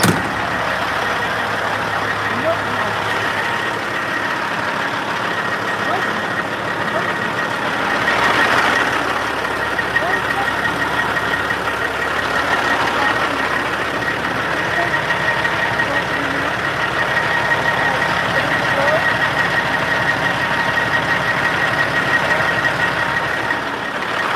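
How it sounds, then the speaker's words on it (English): A truck engine idles with a steady low rumble and hum, unbroken for over twenty seconds, outdoors at night during a Christmas lights run. "That's my truck, guys."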